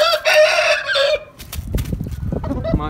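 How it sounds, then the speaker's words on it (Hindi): An Aseel rooster, a broad-chested farm bird, crows loudly and close by for about a second, followed by softer scratchy clucking and farmyard movement. "माशाल्लाह से खुली छाती का मुर्गा है"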